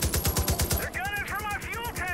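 Enemy gunfire in Far Cry 5, a rapid burst of automatic shots at the start followed by a whining, swooping engine-like drone, with a voice talking over it.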